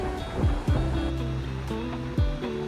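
Waves wash up at Nata Beach in Fukuoka, Japan, a soft, steady surf rumble with a few brief surges, fairly distant and calm.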